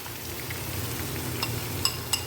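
Dissolved spice paste sizzles and fries in a pan of potol curry over a low flame, a soft, steady hiss broken by a couple of sharp metallic clinks near the end.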